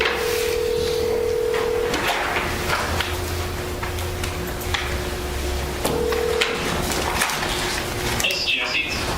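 Telephone tones sound over a speakerphone line while a call connects, steady sustained beeps with short pauses between them, loud against background hiss.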